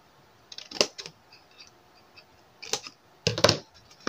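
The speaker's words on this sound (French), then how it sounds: "Ici, notre petit carré, on va le couper en biais." Small scissors snip diagonally across a little paper square, giving a few short, crisp, close cuts separated by quiet pauses.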